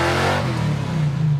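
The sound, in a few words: car engine revving at full throttle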